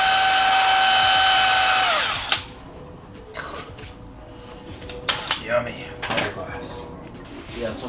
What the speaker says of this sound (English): we're gonna drill holes through here and through here